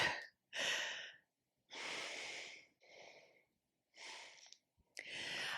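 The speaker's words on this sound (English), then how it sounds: "Take a moment to breathe." Heavy, deliberate breathing during a leg-raising exercise, a series of loud inhales and exhales with short snorting bursts, close and alone with no talk.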